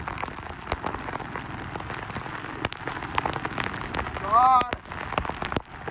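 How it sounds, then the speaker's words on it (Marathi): Heavy monsoon rain pours steadily in a dense, loud wash, with sharp drops and patters throughout and a brief voice-like whine partway through. "काय भयंकर पाऊस आहे."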